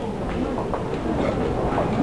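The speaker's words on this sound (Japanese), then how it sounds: "6番線に各駅停車津田沼行きが参ります" A steady, loud mechanical rumble of a local train to Tsudanuma rolling into a Tokyo station platform, with a continuous low roar and faint rhythmic clatter throughout.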